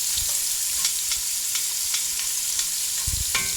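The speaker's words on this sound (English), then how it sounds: "usually the sauteed shrimp will only take about 2 or 3 minutes" Shrimp sautéing in a pan for a seafood stew, a constant close sizzle with light crackles and a couple of soft low bumps toward the end, no voices.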